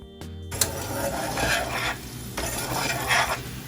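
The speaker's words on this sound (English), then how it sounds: "Here I'm just whisking the sauce to make sure everything's getting combined and the fats aren't separating." A brown sugar garlic sauce bubbles in a pan while a whisk scrapes and swirls through it in steady passes, with a faint sizzle beneath and light metallic clinks against the pan.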